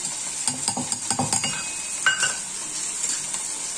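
Eggplant pieces frying on high flame with salt and chili being added, stirred with quick repeated scraping and clinking strokes over a steady sizzle, close and without talk.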